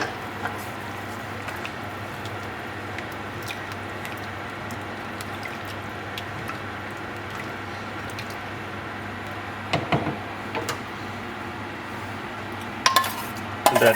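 Tur dal paste being stirred into sambar in a metal pot, with soft wet squishing and light clinks of a spoon against the pot. Occasional louder scrapes and knocks come near the end, and no one speaks.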